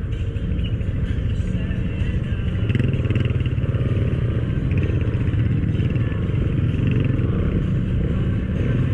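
Dense street traffic of cars and motorcycles pushes onto EDSA in Mandaluyong, with engines rumbling and clattering close by in a continuous, loud mix that rises and falls slightly.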